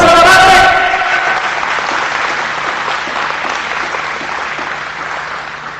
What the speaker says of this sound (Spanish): Le daría un aplauso a la Madre